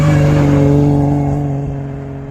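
A rally car at the Aluksne rally in Latvia drives past, its engine loud and close at first with a strong harmonic drone, then fading steadily as it moves away.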